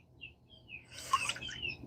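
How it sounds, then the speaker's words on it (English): Faint birdsong drifts in from a distance, a few thin chirps and trills over a quiet outdoor background, with no one talking. "enjoy some bird song"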